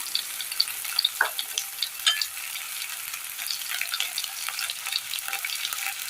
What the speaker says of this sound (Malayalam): ഇതിലേക്ക് ഒരു പച്ചമുളക് അരിഞ്ഞത് ഇട്ട് കൊടുക്കാം.